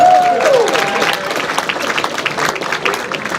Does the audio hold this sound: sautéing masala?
no